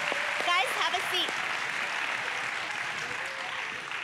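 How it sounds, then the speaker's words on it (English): Audience applause at a Christian school Christmas concert, steady clapping filling the hall from start to end, with brief cheering or voices near the beginning. "Please give them another round of applause."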